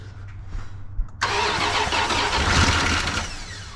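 A 1988 Dodge Power Ram pickup that sat unused for 23 years cranks briefly, then its engine catches with a sudden loud roar and settles into a rough, sustained idle up close.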